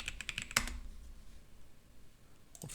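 Typing on a computer keyboard: a short burst of quick key clicks with one sharper tap, then near silence, and a couple more clicks at the very end.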